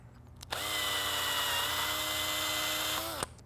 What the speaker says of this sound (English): I gotta drill those out as well.